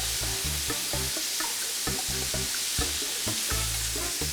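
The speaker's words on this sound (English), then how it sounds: "now I'm going to flip my salmon." Salmon fillet frying in a pan alongside broccoli, giving a steady close sizzle throughout with repeated soft scraping and clatter as the fish is turned; no one talks.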